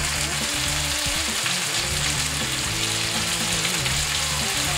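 Fish fillets frying in a hot pan until golden, with a steady, dense sizzle and crackle of oil running throughout, close and fairly loud, with no voices.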